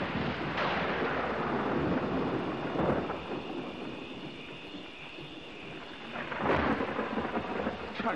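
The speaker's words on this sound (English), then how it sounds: "Heat lightning." A night thunderstorm with heat lightning: rolling thunder rumbles and swells, with two louder booms, over a steady wash of rain and gusting wind, loud and continuous without any voices.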